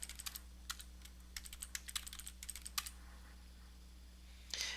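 Fast, uneven key clicks on a computer keyboard as a login name and password are entered, close and fairly crisp over a steady low hum, ending in a brief rustle.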